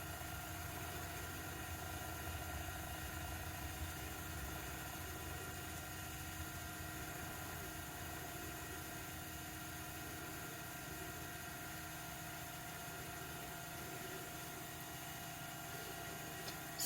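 A tumbler turner motor slowly spins resin-coated tumblers, a faint, steady mechanical hum with constant vibration and no voices.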